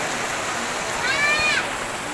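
Heavy rain pours steadily in a cemetery, a dense continuous wash of falling water that stays loud throughout, with a brief higher whistling or squeaking sound rising over it partway through.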